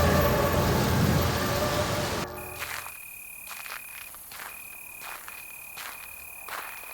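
Heavy storm rain pours steadily for about two seconds in an animated story scene, then cuts to a quieter night ambience with repeated insect or cricket-like trilling and soft rain remnants.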